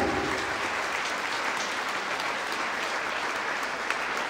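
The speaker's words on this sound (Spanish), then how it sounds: "Fuertes aplausos al Señor Jesús." A church congregation applauding, dense sustained clapping that stays loud and even throughout, with a faint murmur of voices underneath.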